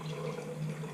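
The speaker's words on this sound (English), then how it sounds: "Pour some fresh filtered water" Fresh filtered water pours steadily into a mason jar holding tomato plant cuttings, a soft, continuous trickle heard up close and faint, with no talking.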